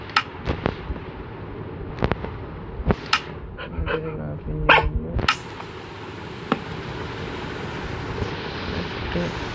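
A dog in the video game Minecraft gives a few short barks among clicks and other game sounds, while a voice talks over them.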